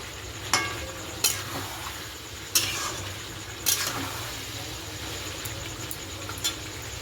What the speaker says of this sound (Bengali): পরে জিরের গুঁড়ো দিয়েছিলাম, দিয়ে দেখো নাড়াচাড়া করছি